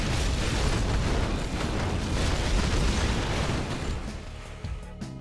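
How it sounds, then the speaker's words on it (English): A roaring, rumbling blast from a V3 rocket launch in the strategy game Red Alert 2, loud and sustained like thunderous thrust, fading slightly toward the end. "We have ignition. Rockets fueled and ready."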